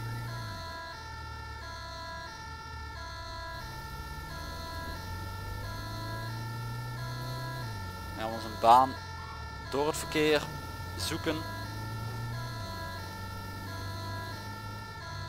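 An ambulance siren in GTA 5 roleplay wails with a steady rising and falling tone over the hum of traffic and the vehicle's engine, while someone talks over it and a few short electronic yelps cut in partway through.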